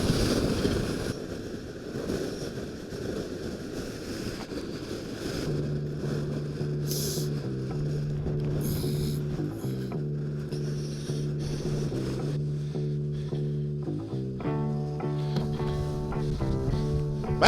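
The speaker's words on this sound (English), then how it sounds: "That is hardcore Patagonia wind conditions." Strong Patagonian wind near Torres del Paine buffets the microphone with a loud, continuous roaring rumble, later joined by a steady low droning tone that pulses on and off.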